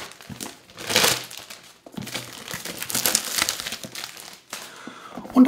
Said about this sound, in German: Lösen es hier von dieser glänzenden Folie.